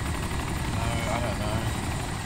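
A Little Bird helicopter in the Arma 2 DayZ mod thrums loud and steady with a continuous rotor chop and engine whine, close by with no break throughout.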